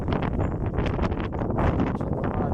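Strong, gusting wind from a windstorm in Pápa, Hungary, roaring and buffeting the microphone continuously and loudly throughout, with no voices heard.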